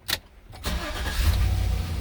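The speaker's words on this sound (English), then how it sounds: "My car is started." A 2013 Chevy Silverado starts up with a sharp click, a brief crank, then the engine catching and settling into a steady, fairly loud idle rumble, heard close with no talking.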